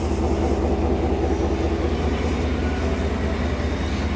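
The 5.0 V8 of a 2025 Ford F-150 Tremor runs with a steady, deep rumble, close and constant, with no voices over it.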